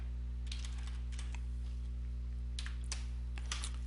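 Keys on a computer keyboard tapped in short irregular bursts, quiet and close, with pauses between clusters over a steady low electrical hum.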